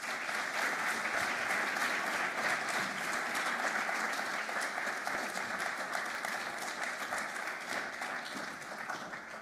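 A live audience at an artist talk claps steadily in warm, sustained applause that fills the room for several seconds and thins slightly toward the end as the artists come onto the stage.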